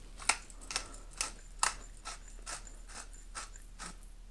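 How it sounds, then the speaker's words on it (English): A repaired Eslau pepper grinder grinding pepper gives a series of crisp ratcheting clicks about every half second, close and clear, with no talk. "It is in fact grinding pepper"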